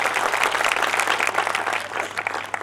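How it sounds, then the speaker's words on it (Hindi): Loud, dense applause from an audience at a Hindi poetry gathering (kavi sammelan), many hands clapping together in a continuous roar that holds steady throughout without speech. "के सम्मान में जोरदार तालियां हो जाए"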